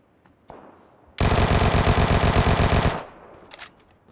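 Vector submachine gun fired in the video game PUBG: one loud, rapid full-auto burst of nearly two seconds, with faint game noises before and after and no talk.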